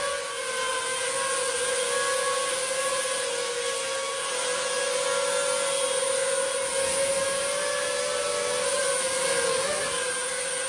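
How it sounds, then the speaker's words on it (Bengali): An XJ2 drone with brushless motors flies with a steady, continuous high-pitched whine, fairly loud and unbroken throughout, with no talking. "এখন একটু ড্রোনটা ফ্লাইং করে দেখি।"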